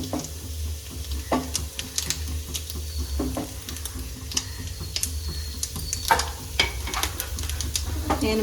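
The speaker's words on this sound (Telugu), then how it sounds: "ఒకసారి పరవాన్నం కలుపుతాను" A spoon scrapes and clinks around a pot of paravannam, rice simmering in milk, with irregular sharp taps and scrapes over a low bubbling, steady background hum.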